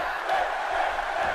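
A large WWE video game arena crowd roars and cheers as Finn Balor takes over the match, a dense sustained wash of voices with no pauses.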